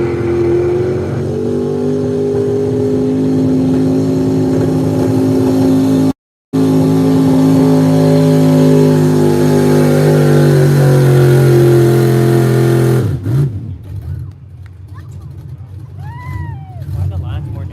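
A Chevrolet pulling truck, the Never Satisfied, revs hard at a tractor pull in Miller's Tavern, Virginia, its engine howling loud and sustained with a brief cutout, then dropping away as crowd noise and announcer talk take over.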